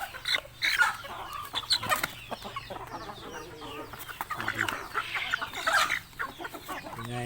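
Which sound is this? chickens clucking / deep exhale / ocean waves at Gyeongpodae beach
chickens clucking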